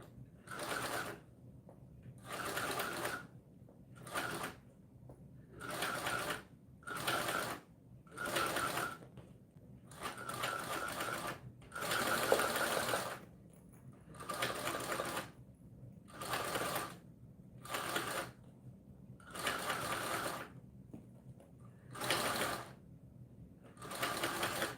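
A sewing machine stitches binding onto a circle bag in a string of short bursts, each a couple of seconds long with brief pauses between, a close, even mechanical whir and rattle with no talking.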